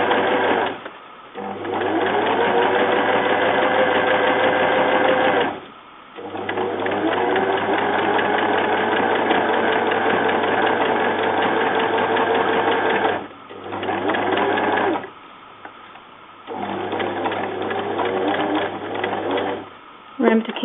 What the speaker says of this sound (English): I'm going to sew along this line here of the boning, making sure it's in the center, and sewing a cover in place as well